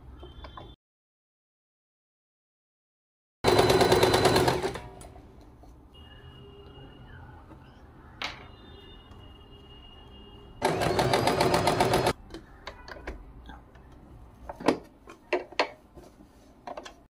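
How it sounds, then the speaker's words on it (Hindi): Sewing machine stitching a pocket onto a pair of pants, two bursts of fast, steady mechanical whirring a few seconds each, separated by quiet handling clicks and light rustling. "तो मशीन पे सिलाई लगाते हैं।"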